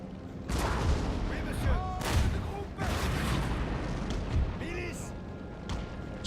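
Napoleonic-era artillery bombardment in the strategy video game Total War: Napoleon, a dense barrage of booming cannon shots and crackling musket fire rolling continuously, some blasts near and heavy, others distant, under someone talking.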